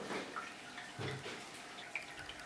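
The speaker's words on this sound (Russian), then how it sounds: "Это прикорка гейзер, которая бурлит в воде." Geyser-type fishing bait fizzing after being dropped into an aquarium, releasing small bubbles underwater with soft watery gurgles and faint drips, close and quiet, no talk.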